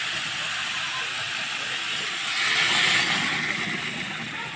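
Hot water hits a pan of frying curry with potato, aubergine and beans, giving a loud, steady hiss and sizzle that swells briefly midway and holds throughout with no talking.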